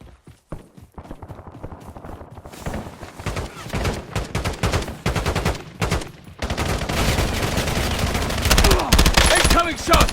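Call of Duty Warzone battle royale on PS5 in Verdansk: rapid bursts of automatic gunfire, sparse at first then dense and continuous, with in-game voice callouts over the shooting.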